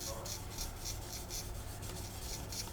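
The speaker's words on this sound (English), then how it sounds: "I'll just scrape this back." Blade scraping back a resin figure from a Hasegawa Lancia Stratos HF Stradale model kit, a steady, close, rasping rub repeated in quick even strokes, with no talk.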